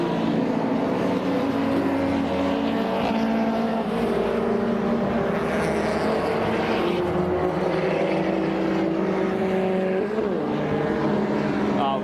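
Saloon and tin-top race cars, including a Peugeot, roar past in a dense, continuous engine drone at the Brands Hatch Indy circuit, with steady loud mechanical hum and shifting engine tones throughout.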